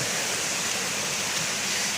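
Small waterfalls pour out a steady, dense rush of water, close and fairly loud, with a constant hiss and no break or voices over it.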